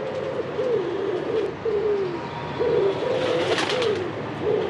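Pigeons cooing in Paris, a series of soft repeated coos close by over steady background city hum, with a brief brighter burst of noise partway through.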